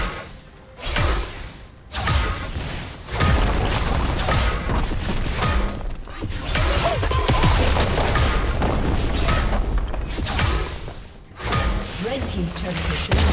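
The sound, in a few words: turret destroyed explosion in video game League of Legends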